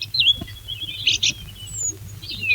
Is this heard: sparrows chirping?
yes